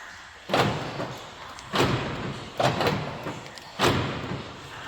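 The right rear door lock actuator of a Mercedes-Benz B-Class W245 is tested, giving four sharp mechanical thunks spaced about a second apart, each with a short rattling decay, near and clear with no talk.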